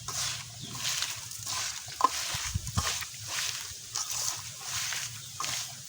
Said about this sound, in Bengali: এখন সুন্দর করে ভাত দিয়ে লিখে নেব আসলে ঘিমা শাকের তরকারিটা এভাবে করে হাতে মাখাটাই ভালো লাগে